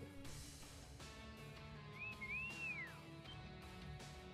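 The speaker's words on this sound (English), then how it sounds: "Why'd he whistle?" A character whistles in the Trails of Cold Steel 2 video game, a single rising-and-falling whistle heard against busy game music and effects, fairly faint in the mix.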